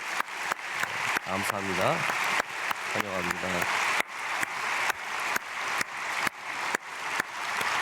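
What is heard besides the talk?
church congregation applauding in welcome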